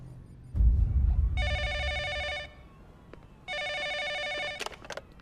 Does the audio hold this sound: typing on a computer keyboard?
no